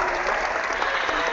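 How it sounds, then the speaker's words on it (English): Clapping hands sound effect, a brief dense burst of many hands applauding, loud and steady for just over a second. "We got to give you some clapping hands."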